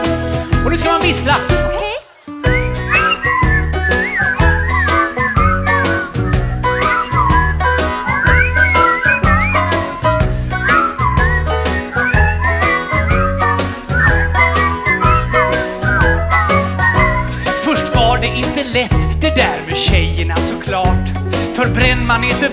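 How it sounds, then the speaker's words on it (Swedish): Whistled melody carrying a children's song about a jellyfish, sitting over a full band accompaniment with steady bass and drums, after a brief pause near the start. "Och nu ska man vissla."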